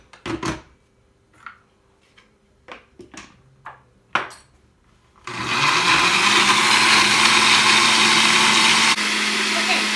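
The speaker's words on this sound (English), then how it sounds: "we're going to go ahead and stop the blender" A few short bursts of sound give way to a loud, steady blender whirring continuously as it blends spicy chili sauce for camarones a la diabla, dropping slightly in level near the end.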